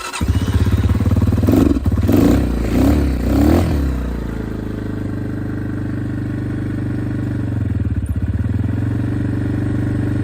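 An X-Pro Titan 250 DLX motorcycle engine is cranked with the choke on, sputtering through several loud pulses before catching into a steady, close idle that holds for several seconds with a brief dip near the end.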